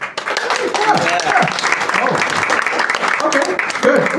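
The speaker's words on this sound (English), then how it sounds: "So let's clap a bit" Audience clapping at a comedy double-feature show, a dense patter of hands with voices talking and laughing over it the whole time.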